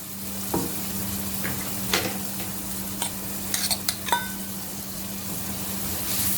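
Finely chopped large onion and two garlic cloves frying in a little oil, a steady low sizzle with a few sharp stirring clicks and scrapes of a utensil against the pan.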